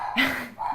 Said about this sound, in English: so my dog's barking, so you're just going to have to put up with it